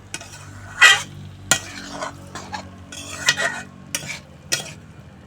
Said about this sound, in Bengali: এখন দিয়ে দেবো বেজে রাখা আলু পটল আলু পটল মশলার সঙ্গে ভালো করে মিশিয়ে নেব